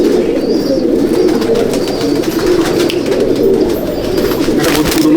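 Male pigeons in a breeder's loft coo continuously in a loud, close, overlapping chorus of low throaty burbling calls.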